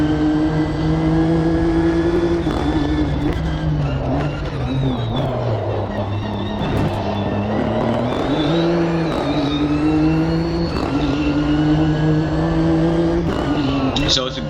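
Race car engine on a flying lap in the Automobilista 2 sim racing game, a loud continuous drone with shifting pitch as it revs and changes gear, with a voice talking over it.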